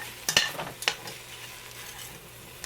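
Curry paste browning in a pan with shrimp and vegetables, a soft steady sizzle broken by a few sharp utensil scrapes and clinks near the start, then settling into a quiet low fry.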